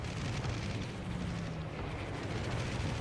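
Onshore artillery firing in the naval game World of Warships during Operation Dynamo, heard as a continuous roar of booming, rumbling blasts with no clear pauses, loud and sustained throughout.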